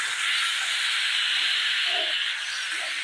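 Sour greens sizzle with spices in a pan during village cooking, a steady, loud frying hiss that holds evenly throughout with no talking.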